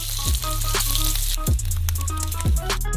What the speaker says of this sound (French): Le hamburger malsain sera garni de bacon. Pour le rendre encore plus malsain, nous le faisons frire dans une poêle.